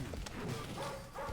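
Dogs in the arcade game Narc barking and yapping in quick short bursts during an attack, with faint game noise underneath.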